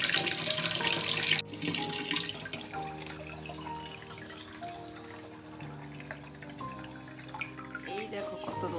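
Tap water hisses loudly into a bottle for about a second and a half, then stops, followed by softer trickling and filling sounds with a tonal rising pitch as the bottles fill.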